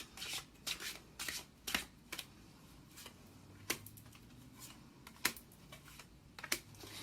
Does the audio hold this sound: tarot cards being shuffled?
yes